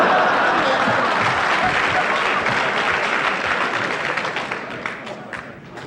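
Loud applause from a 1975 live stand-up comedy audience starts thick and full, then gradually thins and fades as the clapping dies down over several seconds.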